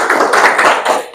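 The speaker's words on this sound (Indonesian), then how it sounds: "ada yang tepuk tangan semuanya ya" Students in a classroom clap their hands together, a short burst of overlapping claps with a quick, uneven rhythm, fairly loud and close, lasting about a second.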